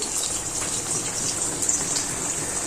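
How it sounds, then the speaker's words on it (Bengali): Fish and broth pour into a pan of boiled bottle gourd, giving a steady hissing, splashing gush that runs evenly throughout, close and moderately loud with no voices. "আমি এখন লাউর মধ্যে মাছটা দিয়ে ঝোল দিয়ে দিব, মাছ আর ঝোল।"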